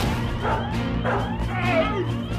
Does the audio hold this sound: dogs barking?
yes